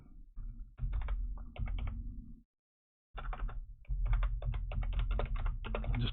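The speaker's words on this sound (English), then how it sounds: "Just typing go south in there." Typing on a computer keyboard comes through as quick bursts of close, crisp key clicks, pausing in complete silence for about half a second before resuming more densely.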